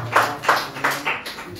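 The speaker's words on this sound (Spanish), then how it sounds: "Denle un aplauso fuerte a Cristo." A church congregation claps in a short, steady rhythm, with four or five distinct sharp bursts at moderate volume and no talk over them.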